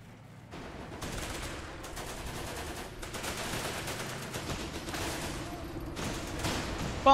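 Rifle gunfire from the Running With Rifles shooter game: bursts of crackling shots and rapid firing come in and out, moderately loud, with brief pauses between bursts and a sharp sound at the very end.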